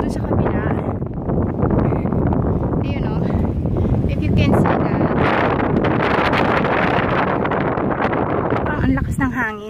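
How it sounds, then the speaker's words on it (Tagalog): Strong gusty wind sweeps across an open mountainside near a horse ranch, roaring and buffeting the microphone continuously, with a voice talking over the rushing noise. "ang lakas ng hangin"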